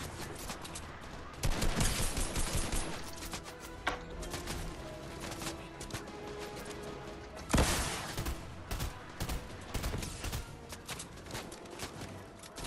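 Video game gunfire with rapid bursts and volleys. Two especially loud, dense bursts stand out among steady crackling shots, all fairly close.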